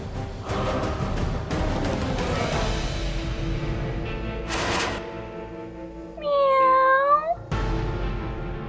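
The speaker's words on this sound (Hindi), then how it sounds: "बिल्ली की आवाज।" A single drawn-out cat meow rises and falls near the end, following quieter rustling and a brief hiss.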